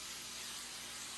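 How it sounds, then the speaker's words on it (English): A can of Tresemme hairspray sprays in one continuous soft hiss, close and steady for about a second before cutting off. "Y'all are gonna see me spraying some Tresemme hairspray."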